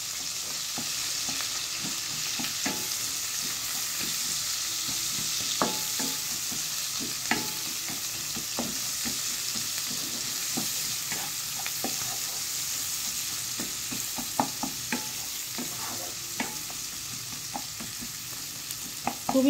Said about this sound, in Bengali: পেঁয়াজটাকে দিয়ে কিছুক্ষণ একটু ভেজে নিতে হবে।